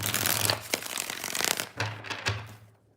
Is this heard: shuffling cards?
yes